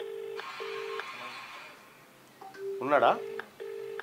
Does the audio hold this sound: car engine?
no